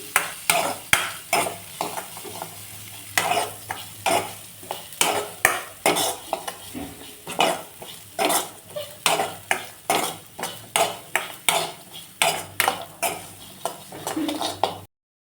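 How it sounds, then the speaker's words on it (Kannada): Sprouted legumes fry in oil in a pan while a utensil stirs them, giving a steady run of sharp scraping strokes and clatters close to the mic over a soft sizzle, continuing throughout. "ಈಗ ಮೊಳಕೆ ಕಾಳನ್ನ ಫ್ರೈ ಮಾಡ್ಕೊತಾ ಇದ್ದೀವಿ ಚೆನ್ನಾಗಿ"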